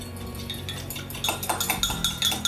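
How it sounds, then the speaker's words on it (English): Oil and milk stirred together in a container for a rhubarb cake, a spoon clinking and scraping in quick repeated strokes that grow busier partway through, close and fairly loud. "The oil and the milk will not mix very well, but we're just gonna stir it together"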